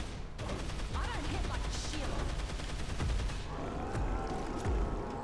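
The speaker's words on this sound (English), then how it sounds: "we're gonna have to pull out the rifle" Rifle gunfire rattles in a Dead Island Riptide fight, dense rapid shots and booming reports in quick bursts, loud and close over game ambience.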